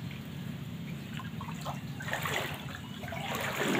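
Floodwater trickles and pours steadily into a house, a continuous watery rush with low rumble that grows louder toward the end, heard close with no talking.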